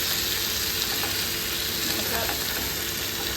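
Fish grilling Kerala style in a pan gives a steady, close sizzle with faint scraping as it is turned over.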